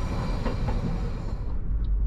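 A tram rumbles past close by on the road in Hakodate, a steady low roar with faint rattling that begins to fade toward the end.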